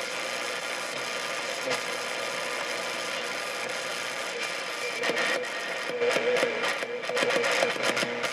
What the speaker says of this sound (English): Somebody, Morse code.